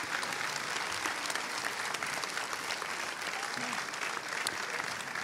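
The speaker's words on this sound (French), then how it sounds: "Je pense qu'on peut les applaudir." A concert audience applauds the project's contributors in a dense, steady wash of many hands clapping at once, sustained evenly from start to finish with no pauses.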